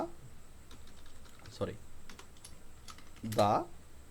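Keyboard typing while text is entered into a Photoshop tech social media design, soft scattered keystrokes through a quiet stretch, with brief bursts of voice in between.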